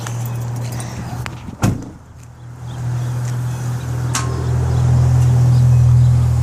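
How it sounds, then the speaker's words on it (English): A Ford F-150 pickup door shuts with a single sharp, close thud over a steady low vehicle hum and outdoor background noise. "Shut the door once."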